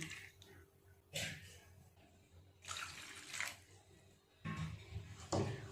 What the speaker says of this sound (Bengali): অনেকবার ধরে এইভাবে জল পাল্টে পাল্টে ময়দাটাকে চটকে চটকে ভালো করে ধুয়ে নিতে হবে